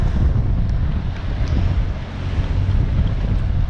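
Steady wind roars across a single-handed sailing boat heading upwind off Hook Head, a dense continuous rush with low buffeting gusts and sea noise, loud and close throughout with no voices.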